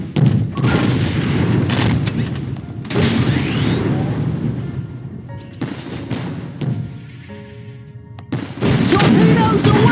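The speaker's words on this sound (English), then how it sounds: "Torpedoes away! Enemy vessel destroyed, sir!" Torpedo launches and exploding enemy ships in the Treasure Planet game's Battle at Procyon, heavy booms and rumbling blasts in repeated loud bursts with short gaps, dense and close.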